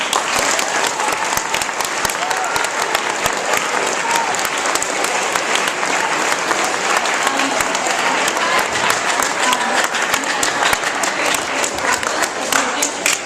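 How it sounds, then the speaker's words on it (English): Sustained audience applause at a high school Justice Lyceum event after a keynote address: dense, steady clapping from a large crowd fills the full span at an even, loud level. "can we get another round of applause?"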